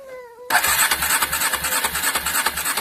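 A petrol engine coughs into life after a tone-like whine, then runs loudly with a rough, pulsing rhythm as it is revved up and down.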